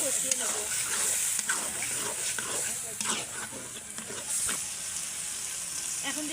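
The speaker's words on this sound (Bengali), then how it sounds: "এখন দিয়ে দেবো জিরে বাটা, দিয়ে আলুটা আগে কষিয়ে নেব।" Potatoes fry with cumin paste in a wok, a soft sizzle broken by irregular stirring scrapes, moderately close, with a voice talking over it.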